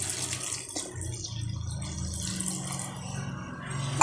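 Water pours into a cooking pot for a Tamil kulambu, a soft continuous splashing stream that runs for several seconds at moderate volume, ending with a small clink.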